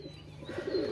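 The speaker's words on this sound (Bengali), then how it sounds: "দেখেন বিয়ার্স অসাধারণ কবুতর আপনারা লক্ষ্য করেন" Pakistani pigeons at a pigeon fair give a brief, faint, throaty coo that swells slightly toward the end of the moment.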